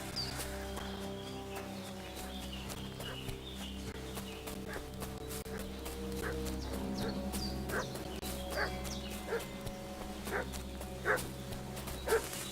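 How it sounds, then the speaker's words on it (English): In Kingdom Come: Deliverance II, a dog barks and whimpers off at a moderate distance, a string of short yips and whines over a steady low ambient hum. "What's that dog making such a fuss about?"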